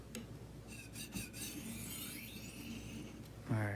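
A knife is drawn across a sharpening stone in quiet rasping strokes to raise a burr, faint and close, ending with a brief louder scrape.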